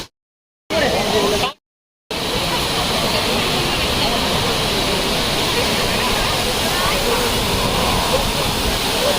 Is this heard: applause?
no